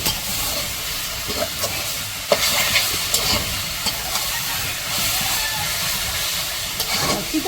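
Jute leaves stir-fried with onions and green chilies in a pan, a steady hissing sizzle broken by repeated scraping stirs and occasional sharper clatters of the utensil.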